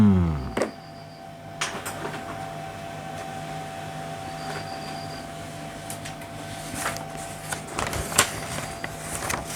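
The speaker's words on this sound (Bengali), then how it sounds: "এবার প্রিন্ট করে ফেলি।" A printer runs off a vaccination certificate with a steady mechanical hum and a faint tonal whine, broken by a few sharp clicks and clunks near the start and end. No one speaks.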